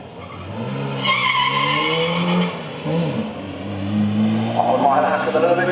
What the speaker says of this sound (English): Hilux with a little bit too much power there, spin of the wheels